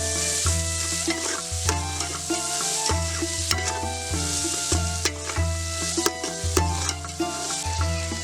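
Chopped onions sizzle in a pan for a village-style biryani, with frequent scraping stirs and clattering utensil knocks sitting over a steady frying hiss.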